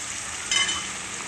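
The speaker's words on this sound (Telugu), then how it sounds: "ఈ ఉల్లిగడ్డ ముక్కలు కలుపుకోవాలండి" Onion pieces frying in a pan while being stirred, a brief, steady close sizzle with one slightly louder scrape in the middle.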